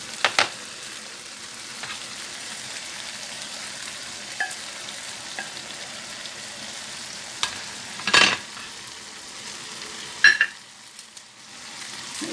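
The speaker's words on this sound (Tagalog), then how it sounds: "Ilagay na natin yung chicharon. Hahaluin natin." Chicharon being stirred into a simmering pakbet vegetable stew, a steady soft sizzle with a few scraping stirs of the spoon near the end, no voices.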